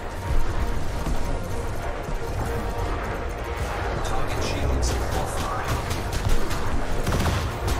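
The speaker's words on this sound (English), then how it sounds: "Try and get him quicker with the shot cannons" Shot cannons firing from a Corvette in a high-intensity conflict zone in Elite: Dangerous: a dense, continuous barrage of booming, crackling blasts that keeps up without a break, with no clear separate shots.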